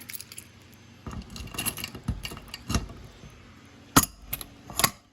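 A ring of keys jangles during work on a Bosch B5512 alarm panel: scattered metallic clinks and rattles, with sharper close bursts near the end and no talking.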